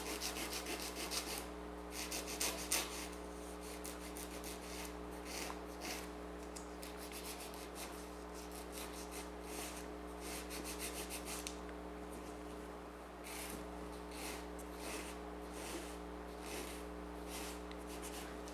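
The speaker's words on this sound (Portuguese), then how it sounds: "E agora a gente termina de diminuir o tamanho" Manual nail file shaping a polygel stiletto nail extension, steady close scratchy rasping strokes running continuously over a low background hum, with no talking.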